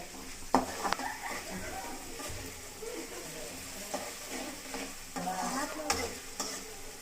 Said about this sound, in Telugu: ఇవి కొంచెం గోల్డ్ కలర్ వచ్చేంత వరకు మనము వీటిని వేయించాలి